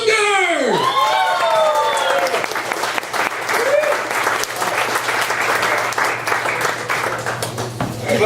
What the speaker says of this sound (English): I want everybody to give a big round of applause for Kris Munger!